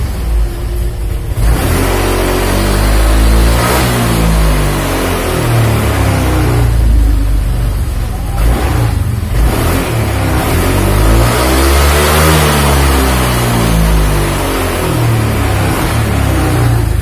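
A motorcycle with a faulty throttle position sensor revs hard under sharp throttle, its loud engine note rising and falling in sweeping waves close by with no talking.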